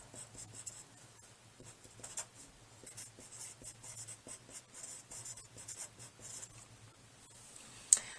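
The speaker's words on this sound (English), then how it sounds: "Then I'm going to write a note about why it's important." A pen writing a note by hand on paper makes soft, quiet scratching strokes in short irregular bursts, close and alone, ending with a sharper tap.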